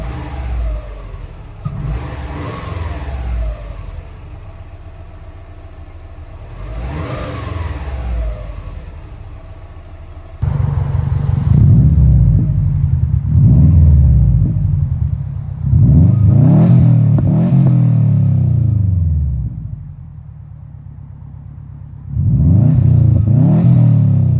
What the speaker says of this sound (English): The N1 exhaust sounds great. We finally have the Subaru Rumble.